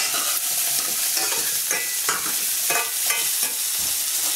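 Smoked tofu and onions roast in a pan with a steady sizzle, broken by scraping stirs every half second or so, close and fairly loud, with no one talking.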